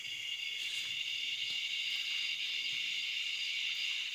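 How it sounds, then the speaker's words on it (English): A cicada buzzes continuously outdoors with crickets in the background, a steady high drone that holds unbroken and fairly faint throughout, with no voices. "there's the cicada"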